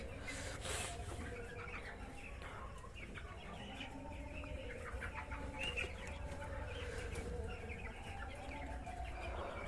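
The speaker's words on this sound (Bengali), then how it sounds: "মুরগি একটু হালকা খিসখিসে আওয়াজ লাগছিল" Ten-day-old broiler chickens with an E. coli infection, a flock in a poultry shed, keep up a steady mass of clucking and raspy calls that runs continuously throughout.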